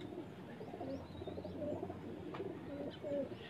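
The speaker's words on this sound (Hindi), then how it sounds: "ये जी जग्गे वाले कबूतर हैं" Jagge wale pigeons with Sialkot cross markings coo softly and steadily on a Sheikhupura rooftop, a low murmuring that runs continuously through the moment with faint outdoor background.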